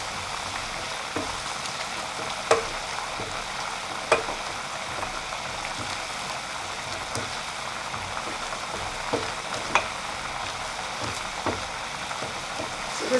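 A paste with dark soy sauce sizzles and fries steadily in a pan while being stirred, with occasional sharp scraping clicks of the utensil, close and continuous with no talking.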